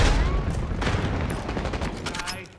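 Rapid gunfire in the Black Ops 6 multiplayer beta: dense, continuous bursts of automatic weapon shots with booming impacts, loud and close, faint game voice chatter mixed underneath.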